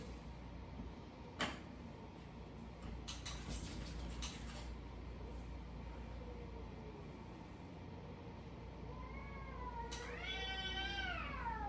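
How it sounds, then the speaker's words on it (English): Cats fighting outdoors at night, faint and distant at first, with a sharp thump and scuffle before a rising, wavering caterwaul swells near the end over a low background hum. "You hear them stupid cats out there fighting?"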